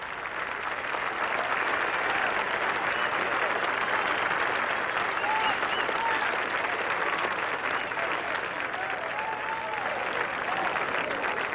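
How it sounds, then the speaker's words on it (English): A large golf gallery of over 22,000 spectators at the 1986 PGA Championship third round bursts into sustained applause and cheering, a dense, steady roar of clapping that fills the whole stretch without pause. "That sounds like the applause after a winner on Sunday."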